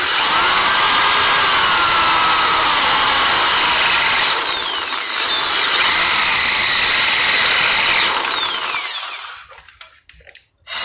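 Power tool with a milling cutter working on an Inter 9800 bicycle hub gives a loud, steady high-pitched grinding whine for about nine seconds, then cuts off, leaving near silence.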